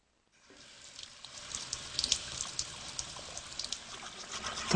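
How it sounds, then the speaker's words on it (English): Water runs from a tap into a sink, starting abruptly after a brief silence and then flowing as a steady, close hiss with small splashes and gurgles that grow slightly louder toward the end. "Don't you just love running water?"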